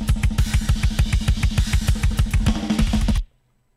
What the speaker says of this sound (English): Now let's listen back to the edited blast beat.